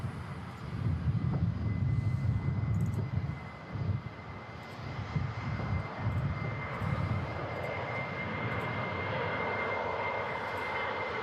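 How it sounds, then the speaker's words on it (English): A Jet2 Boeing 737-800 rolls along the runway, its engines producing a broad, steady roar heard from a distance that swells and then eases to a sustained rumble. "Just rolling on the runway now. We've got a flight to Larnaca, Jet2 72 Lima Kilo, 737-800."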